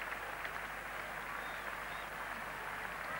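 A large cricket crowd at Lord's applauds Tony Greig as the England captain walks in during the 1975 Test against Australia, a steady, broad wash of clapping heard from a distance.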